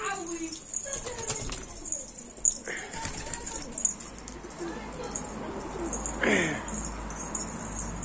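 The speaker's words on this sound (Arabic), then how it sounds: "كلها طيور حمام." Several ornamental pigeons coo in low, soft repeated calls, with a person talking over them and occasional rustling and jangling nearby.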